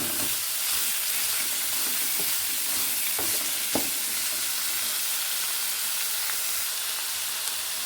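Capsicum pieces sizzle steadily in a hot frying pan while fried rice is being cooked, a continuous loud hiss with a few soft stirring knocks near the start.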